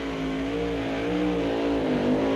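A truck's engine revs hard and steadily during a truck pull at a 1989 TNT Tuff Trax show in Atlanta, Georgia, a loud, sustained roar with a shifting pitch and no talk over it.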